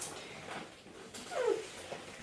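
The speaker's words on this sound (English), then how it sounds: "Did you hear that? That was a cat." A house cat gives a single short, wavering meow midway through, faint and fairly distant over a soft background hiss.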